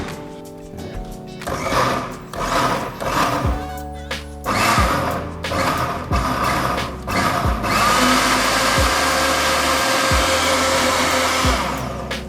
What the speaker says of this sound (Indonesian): Oke, langsung kita mulai blender.